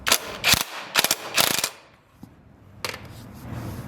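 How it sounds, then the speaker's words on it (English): A ratchet with an M17 socket tightens the side stand bolt on a Honda CB250F motorcycle frame: quick bursts of loud clicking close by, a pause, then one more short burst and a quieter tail. "Tighten the side stand bolt with an M17 socket."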